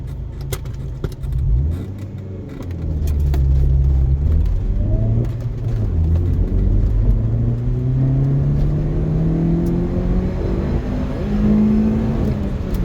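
A Rover 25 GTI pulls hard from 0 to 60, its engine note climbing steadily through the gears under loud interior cabin rumble, with short breaks between rising pitch sweeps.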